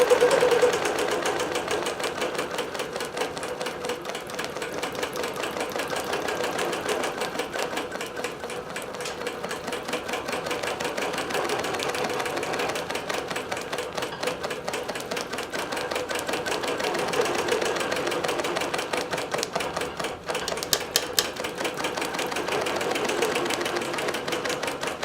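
A computerized quilting machine stitches its way across a quilt, a steady rapid mechanical chatter of needle and motor that runs evenly and unbroken throughout, with no voices.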